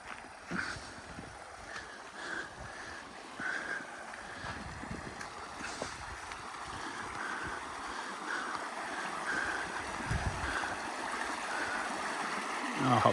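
Shallow stream flowing over rocks in a mountain valley, a soft continuous babble and trickle heard from close by under gusty wind noise on the microphone, with occasional bumps of handling.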